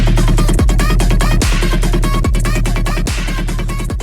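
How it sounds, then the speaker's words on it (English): Hard-hitting dubstep drum loop at about 140 to 150 BPM, with punchy kicks, sharp snares and a deep sustained sub bass in a steady driving rhythm, loud and alone. "by the end of this video, your drums are going to sound like this."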